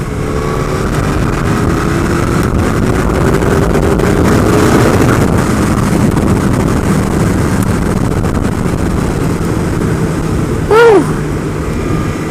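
A Suzuki GSX-R1000 sport motorcycle's engine drones loudly and continuously under heavy wind rush, holding a sustained roar throughout with a brief rising tonal sweep near the end.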